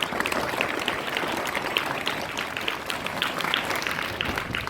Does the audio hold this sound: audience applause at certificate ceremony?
yes